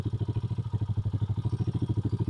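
A 125 motorcycle engine runs during a carburetor mixture adjustment, with quick, even, thumping exhaust pulses at a close, moderately loud level and no talking.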